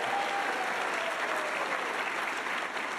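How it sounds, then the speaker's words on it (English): Crowd applause at a college's fall opening-day staff gathering, a thick continuous wash of clapping from a large audience holding at steady volume throughout, with no voices rising above it. "let's give him a big round of applause"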